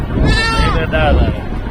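A goat bleats with wavering, drawn-out cries at a livestock market in the rain, loud and close, with people talking over it.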